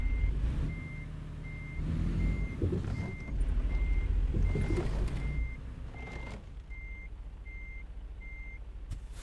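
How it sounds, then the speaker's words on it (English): A big truck pulling a trailer backs up, its reversing alarm beeping in an even, repeating rhythm over a loud, close diesel rumble, with a brief air-brake hiss partway through. "Big truck."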